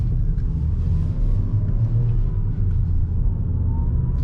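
A Ford Fiesta pulls out of a road junction, its engine a steady low rumble and drone heard from inside the cabin, close and continuous with no talking.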